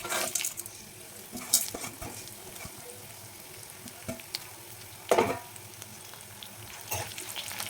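Spices fry in hot oil for a mutton gravy, a soft, quiet sizzle with occasional sharp clinks and scrapes of stirring scattered across it.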